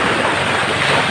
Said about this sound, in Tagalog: Dito naman tayo ulit sa dagat.